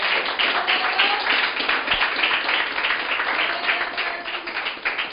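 A church congregation claps together through a sermon, a dense, continuous patter of many hands that swells and eases slightly, with no talking over it.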